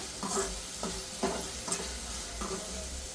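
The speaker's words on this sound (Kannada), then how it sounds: "ಅಲ್ಲಿವರೆಗೂ ಸ್ವಲ್ಪ ಫ್ರೈ ಮಾಡ್ಕೋಬೇಕು ಟೊಮೆಟೊನ" Tomatoes frying in a pan for a horse gram curry, steady sizzle with a spoon stirring in short scraping strokes, close and alone.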